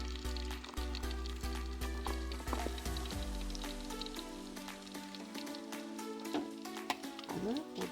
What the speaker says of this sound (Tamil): இப்போ எண்ணெய் கொதிச்சிட்டு அப்போ அதுக்கு தக்கன நாலு வெங்காயம் நான் வெட்டி வச்சிருக்கிறேன் அதை போட போகிறேன்